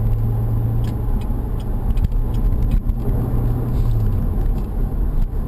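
A Chevrolet C7 Corvette engine rumbles steadily at low pitch while driving, with a continuous road roar and a humming drone throughout.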